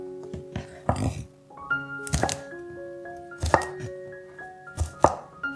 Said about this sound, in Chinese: 首先将茄子切片，再将长豆切成好几段